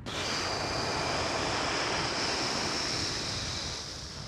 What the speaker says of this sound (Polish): Wydech.